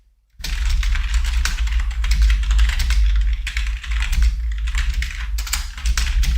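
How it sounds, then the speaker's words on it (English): Rapid, loud clacking of a mechanical keyboard being typed on hard and continuously, close up, with no voices. "Really pounding that keyboard."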